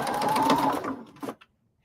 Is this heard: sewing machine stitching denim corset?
yes